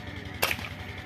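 An air gun fires once at a bird outdoors, a single sharp snapping crack of moderate loudness standing alone against a steady low background hum.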